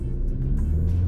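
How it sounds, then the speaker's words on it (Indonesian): A Suzuki Grand Vitara Hybrid with its SHVS smart hybrid system pulls hard from a standstill toward 100 km/h, its engine a steady low drone heard from inside the cabin, rising slightly throughout. "jadi tadi gue udah melakukan pengujian akselerasi 0 ke 100 di Suzuki Grand Vitara ini"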